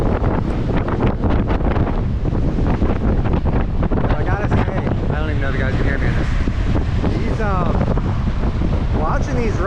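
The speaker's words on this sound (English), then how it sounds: "Watching these rough seas from the north and inside is actually kind of enjoyable" Strong wind buffets the microphone over rough, choppy seas driven from the north on a cold October day on the way to Michigan, with a steady broadband roar and occasional voices in the background.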